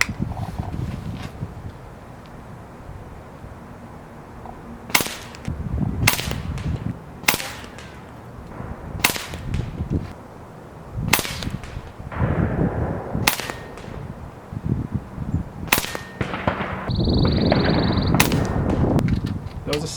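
A Kral PCP airgun fires pellets while being sighted in, giving about ten sharp cracks spaced a second or two apart, loud and close, with a voice speaking quietly between shots.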